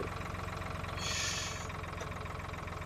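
A tractor engine idles in Farming Simulator 2013 with a steady low rhythmic chug, close and even, and a brief hiss of air partway through.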